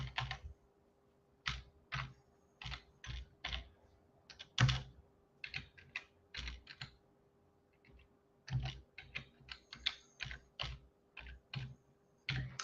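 Someone types on a computer keyboard, close and crisp, in irregular bursts of rapid key clicks separated by short pauses, with no talk over it.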